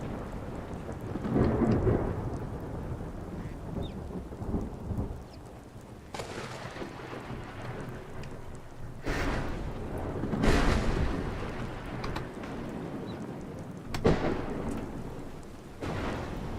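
Thunderstorm in the game Skyrim: sudden sharp lightning cracks followed by deep rolling rumbles, several strikes over steady rain, loud and close with no voices.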